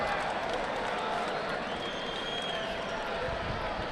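The crowd at a judo Grand Prix in Havana gives a sustained murmur of cheering and scattered applause across a large arena, with a commentator's voice running over it.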